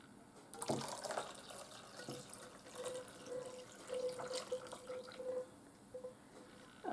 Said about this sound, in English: Add 2 cups of hot water.